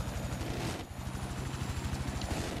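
A helicopter in the video game Battlefield 4 drones loudly and continuously with a fast rhythmic rotor chop, mixed with bursts of rapid game gunfire.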